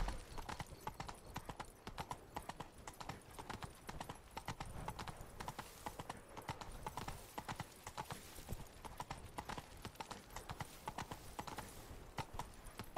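Horse hooves clip-clop steadily through The Witcher 3: Blood and Wine, a fast, dense rhythm of hoofbeats running the whole way with the odd whinny, over faint game ambience.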